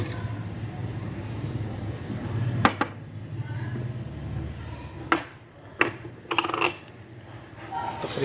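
Washed, hulled fresh strawberries are dropped into a jug in a home kitchen for a milkshake, giving a few soft thuds and clinks spaced apart over a faint background hum.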